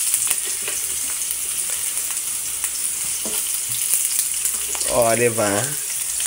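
Onions and garlic sizzle steadily in a hot pan for squid adobo, with occasional stirring scrapes. Someone speaks briefly near the end over the frying.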